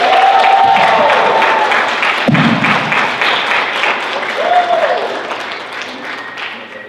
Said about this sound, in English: I want everyone to give a big round of applause to our wonderful guest, Steve Blum.